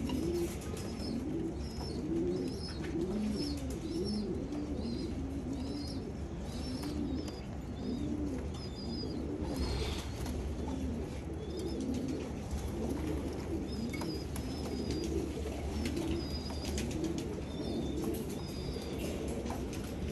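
Many pigeons coo continuously at a pigeon loft, a dense, overlapping chorus of soft repeated coos, near and steady throughout, with occasional wing flutters.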